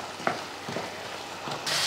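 Soft scraping and clattering as Kerala-style avial vegetables are stirred with coconut oil in a pan, a few brief strokes with faint sizzling underneath, ending in a louder hiss.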